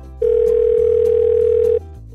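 A steady telephone dial tone hums loud and clear for about a second and a half, then cuts off as a call is placed.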